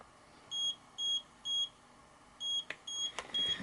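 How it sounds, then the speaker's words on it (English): A Taranis radio transmitter powers up with a series of short, high-pitched electronic beeps in a quick, evenly spaced rhythm, followed by a couple of faint clicks. "Have to wait for the beeps"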